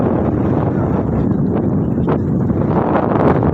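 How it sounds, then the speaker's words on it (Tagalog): Strong wind buffets the microphone on a hill summit in a steady, loud roar, with gusty rumbling and faint rustling throughout and no clear speech. "lakas ng hangin"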